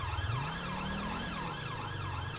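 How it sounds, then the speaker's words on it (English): An ambulance siren in GTA 5 wails in a steady repeating up-and-down sweep, loud and close, over the low rumble of a car engine, with no talking. "Oh, that was the ambulance."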